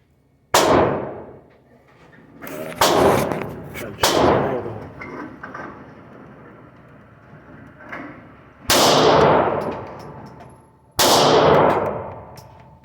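A Taurus G2C pistol is fired at an outdoor gun range, with five loud, sharp reports spaced irregularly over several seconds, each one ringing out and decaying, plus fainter shots from elsewhere on the range.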